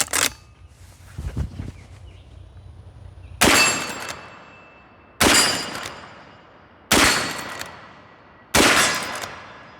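A Smith & Wesson 1854 lever-action rifle fires five loud, sharp shots outdoors, spaced roughly one to two seconds apart, each report followed by a short decaying echo.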